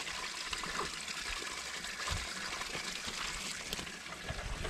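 Water sloshing and trickling steadily while clothes are washed by hand in a tub outdoors at an off-grid laundry setup, continuous and close.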